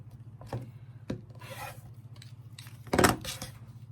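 A blade cuts fabric for a lined zipper pouch, giving close rasping, rubbing strokes and a louder slice near the end over a steady low hum, with no talk.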